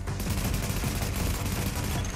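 Gunfire crackles in a firefight in the video game The Division, a dense, continuous burst of rapid shots filling the whole moment, loud and close.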